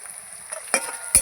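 Onions and spices fried together in a pan with salt and turmeric while a spoon stirs, giving soft scraping and a brief sizzle that flares twice in a short stretch with no talking.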